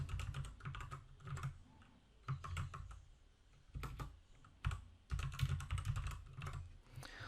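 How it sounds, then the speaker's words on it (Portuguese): Keystrokes on a computer keyboard entering a Python command, quick close bursts of clicking in several short runs separated by brief pauses, quiet and alone. "Vamos digitar um comando Python."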